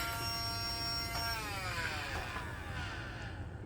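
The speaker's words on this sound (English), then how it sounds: "Let me vacuum your hair." Household vacuum cleaner running close by, a steady whining hum with shifting pitch as the nozzle moves over a person's hair, continuous and fairly loud with no talk.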